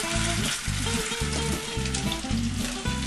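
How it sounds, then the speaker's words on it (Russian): Oil hisses steadily in a frying pan being readied for pork cutlets, a continuous close sizzle with low, rhythmic tonal sounds pulsing underneath throughout. "Вот я уже слышу, начинает сковородка шкварчать"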